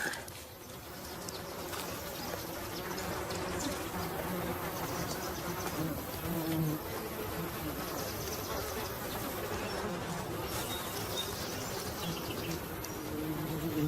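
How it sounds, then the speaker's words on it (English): Flies buzz steadily around a dead, partly chewed mule deer carcass outdoors, a continuous insect drone with faint birdsong in the background. "I can hear flies buzzing around."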